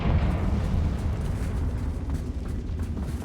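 A deep, rumbling fiery blast from the Confringo spell in Hogwarts Legacy, a sustained low roar that stays loud and fills the whole moment without talk.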